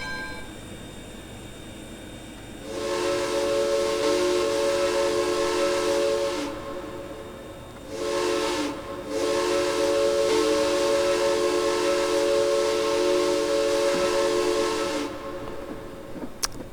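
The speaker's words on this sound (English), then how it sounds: "Definitely one of K&L's better whistles" A K&L Arcade & Attica 2-8-0 steam locomotive whistle in Trainz 2019 sounds three times, a short blast, a brief one and a long sustained chime, loud and clear with hiss.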